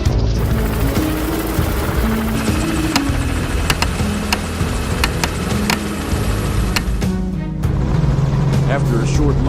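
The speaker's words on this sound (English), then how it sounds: "the helicopter roared back to life and we resumed our pursuit" A helicopter engine restarting during a wild boar hunt roars steadily throughout, a loud continuous mechanical drone with whining tones, and a voice speaks over it.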